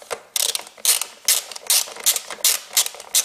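Ratchet wrench loosening nuts on a Toyota Corolla VVT-i engine, a close, crisp series of about seven clicking ratchet bursts in a regular back-and-forth rhythm, with no voices.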